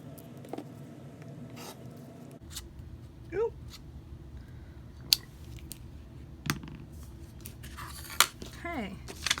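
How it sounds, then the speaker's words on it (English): Scissors snip fabric pieces in half while a paper-pieced pineapple quilt block is made; a few brief, close cutting clicks sound over a quiet room with faint handling noise. "And cut those in half."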